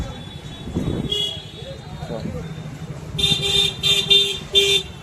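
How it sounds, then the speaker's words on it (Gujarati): Rajkot street traffic in a narrow lane near a cloth market: engines hum beneath repeated car horn toots, a short blast early on, then several honks in quick succession toward the end. "ટ્રાફિક એટલું થાય પાછું."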